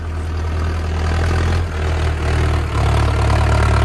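A Mahindra Arjun Nova tractor engine idles close by with a steady low diesel rumble, dipping briefly twice before settling back to a constant throb, with no talk.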